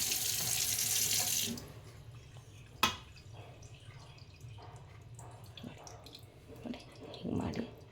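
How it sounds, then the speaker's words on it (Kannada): Water runs from a tap into a vessel for washing homemade butter, a loud hiss for the first second and a half, then quieter splashes, a sharp knock and soft sloshing with faint talk. "ಈಗ ನೋಡಿ ಫ್ರೆಂಡ್ಸ್, ಇನ್ನೊಂದು ಸಲ ನಾನು ಇನ್ನೊಂದು ಸಪ್ರೇಟ್ ನೀರು ಹಾಕ್ತಿದ್ದೀನಿ."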